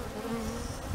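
Honeybees swarming around a trapout hive fixed to a pecan tree on a golf course make a steady, close buzzing drone that holds evenly through the whole moment.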